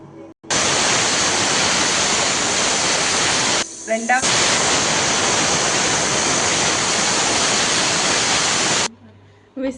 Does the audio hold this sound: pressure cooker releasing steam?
yes